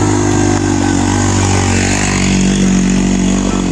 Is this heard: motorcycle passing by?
yes